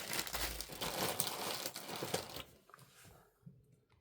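Close, fairly loud crinkling of a plastic bag inserted into an Ubongo puzzle board game box, rustling continuously before fading to a few quiet crackles.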